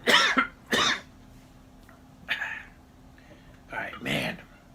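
A man coughs in several harsh, hacking bursts, two close together at the start and more a few seconds later, with short quiet gaps between them indoors.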